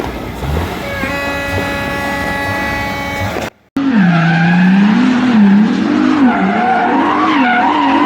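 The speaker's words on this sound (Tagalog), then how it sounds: "Yo, pinandar na yung kotse." A car engine runs loudly up close, its pitch rising and falling as it revs, with a brief break in the middle before the engine note returns and wavers on.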